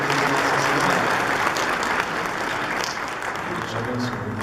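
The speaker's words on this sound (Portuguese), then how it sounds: "Vamos dar uma salva de palmas então para a família que recebe a imagem de Nossa Senhora." A church congregation applauds at a Sunday Mass for a family receiving an image of Our Lady, a broad, steady wash of many hands clapping that fills the room evenly and is heard on its own.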